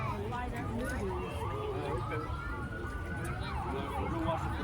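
A police car siren passes during a parade, its wailing tones rising and falling at moderate distance amid crowd noise and voices talking nearby.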